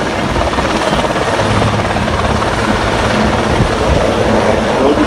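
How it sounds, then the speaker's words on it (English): A large Oryx military transport helicopter roars loudly overhead, its rotor and engine producing a constant heavy thrum with no pauses or voices. "on board the Oryx helicopter, 12 times Marines Fire Support Group"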